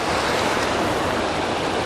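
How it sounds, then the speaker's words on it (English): The Kona River flows through Kona Glen on a Highland walking trail, a constant close rushing of water with no pauses. "This is the Kona River, which means I'm now in Kona Glen."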